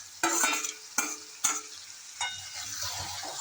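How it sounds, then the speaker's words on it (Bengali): Mutton marinated in mustard oil, onion and turmeric, with chopped onion added, frying and being stirred in a pan: several sharp spatula scrapes and clatters over a soft, steady sizzle, close and moderately loud. "এবার ভালো করে কষবো।"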